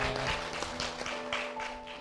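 Church congregation applauding during a Sunday worship service, a brief spell of scattered, moderately quiet clapping from a room of worshippers, with a steady hum running underneath.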